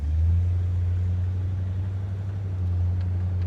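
A 1965 Ford Galaxie 500 XL, Canadian-built, cruising along with a steady low engine rumble and drone from inside the car, continuous and even with no talking.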